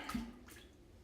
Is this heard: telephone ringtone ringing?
no